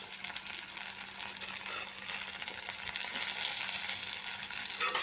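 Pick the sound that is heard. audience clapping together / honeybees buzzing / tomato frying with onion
tomato frying with onion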